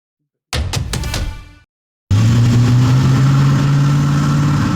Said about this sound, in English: When engines start revving this loud and strong